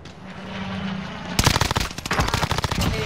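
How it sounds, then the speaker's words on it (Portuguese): Dense automatic gunfire in the video game Warzone, rapid close bursts that erupt suddenly after a quieter stretch and continue loudly to the end. "Estão atirando em mim!"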